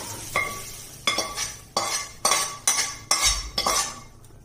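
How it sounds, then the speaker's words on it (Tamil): Cooked okra is scooped from a frying pan into another vessel for bhindi masala gravy, six or seven distinct metal spoon scrapes and clinks at a steady rhythm over faint sizzling. "இப்போ இது கொஞ்சம் வெந்துவிட்டு வெண்டைக்காய் அதை வேற பாத்திரத்துக்கு டிரான்ஸ்ஃபர் பண்ணிக்கணும்"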